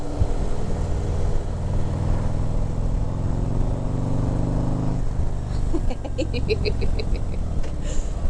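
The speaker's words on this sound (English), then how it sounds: "listen to my exhaust" A motorcycle engine with an electronically controlled exhaust valve rumbles loudly at idle, then its exhaust pitch shifts and it starts popping and crackling in quick bursts.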